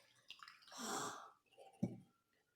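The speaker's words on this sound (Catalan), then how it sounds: "I va posar aigua en el pot" Water poured into a jar already holding stones and salt gives a brief gushing splash, preceded by small knocks and followed by a soft clunk as the container settles.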